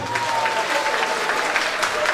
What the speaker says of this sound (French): Applaudissez pour le président, s'il vous plaît